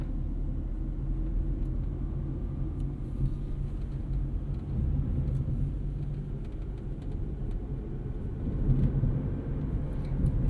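The 1.3-liter engine of a 2004 Honda Civic Hybrid is heard from the cabin as a low, steady, subdued hum mixed with road rumble, with no one speaking.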